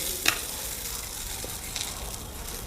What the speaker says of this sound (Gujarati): જે રાઈસ કર્યું છે એમાં આપણે જીરાનો વઘાર નાખી દઈશું સારી રીતના